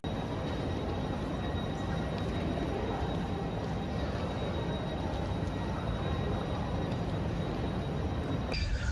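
A passenger train travelling from Zurich railway station directly to Lucerne, Switzerland, heard from on board as a steady, loud rolling rumble and hiss that continues without a break, with no voices.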